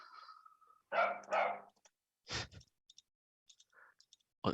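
Loud dog barks sound indoors during a lecture: two quick harsh barks, a single sharper one, then faint clicks and small noises in near-silence.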